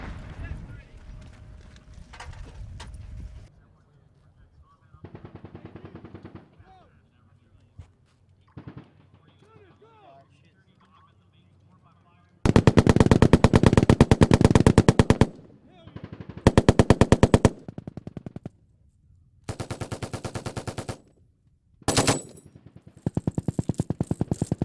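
Machine gun fire at paratrooper training, loud sustained bursts of rapid automatic shots in several long strings with short gaps between them, with people talking and quieter handling sounds before the firing starts.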